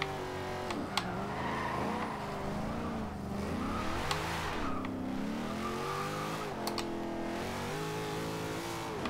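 A 2014 Chevrolet Corvette Stingray in the Forza Horizon 2 racing game spins its wheels in third gear, its engine note rising and falling with revs while tire squeal cuts in briefly over a steady drone.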